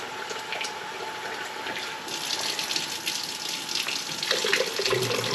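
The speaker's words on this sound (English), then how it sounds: "So I'm just going to pour this in." Liquid is poured steadily into an Instant Pot over a corned beef brisket, a soft continuous splashing stream heard fairly quietly and growing slightly fuller toward the end.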